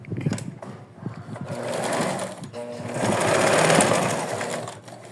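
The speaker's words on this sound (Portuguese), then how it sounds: "Aqui é só uma costurinha de segurança, para quando a gente for montar ficar mais fácil." A sewing machine runs a quick line of securing stitches on fabric for a fox plush, its rapid mechanical chatter rising in bursts, close and fairly loud with brief pauses between runs.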